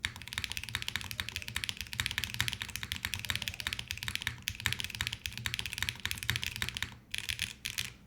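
Orbit65 mechanical keyboard typed on directly without a desk pad, rapid continuous clacking keystrokes close by for several seconds, slowing briefly near the end.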